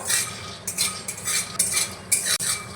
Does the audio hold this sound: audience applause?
no